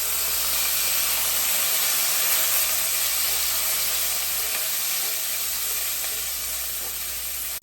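Parboiled potatoes laid face down in a hot frying pan, cooking alongside steak and shrimp, give a steady, loud, continuous sizzle and hiss throughout, with no talking.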